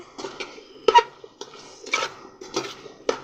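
Utensil scraping and clinking as potato and egg curry is stirred in a pot, a few distinct close knocks and scrapes in irregular bursts with quiet gaps, no talk.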